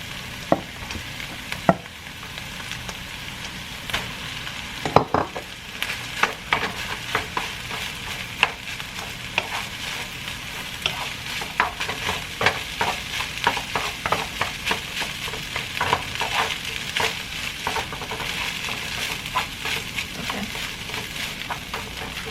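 Rice for lobster butter fried rice is stir-fried in a hot pan, with steady loud sizzling throughout and frequent sharp scrapes and clacks of a spatula tossing the grains, close and continuous with no talking.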